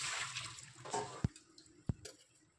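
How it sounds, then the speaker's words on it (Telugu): Washed grapes drain in a strainer: a soft trickle of water runs off at first, then two distinct drops land close by in the quiet. "గ్రేప్స్ని వాష్ చేసేసాక స్ట్రైనర్లో వేసి నీరు మొత్తం వంపేస్తాను"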